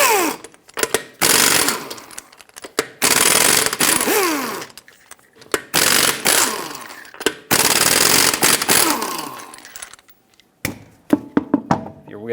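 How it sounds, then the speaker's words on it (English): An impact wrench with a 21mm socket spins lug nuts off a 2013-2018 Hyundai Santa Fe front wheel. Several loud, rattling bursts lasting a second or two each are broken up by short pauses and a few clanks. "Use a 21mm socket and take all 5 of your lug nuts off"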